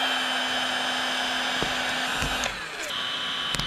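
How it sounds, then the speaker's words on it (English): A small Milwaukee heat gun blows a steady, close, airy whoosh with a faint motor whine, used while building a meat shelter for chickens from roofing panels, running alone with a few light clicks. "I got this little Milwaukee heat gun the other day"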